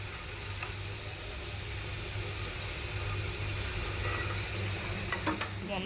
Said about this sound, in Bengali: এভাবে আমি বাকি যেটা আছে সেটা ভেজে নিয়ে তোমাদের সম্পূর্ণ দেখাবো